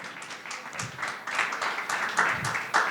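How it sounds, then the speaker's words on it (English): Audience applause welcoming a speaker joining by Zoom at an Afro Berlin conversation event, a moderate, steady patter of clapping with a few voices mixed in. "So please welcome Francis with a warm applause."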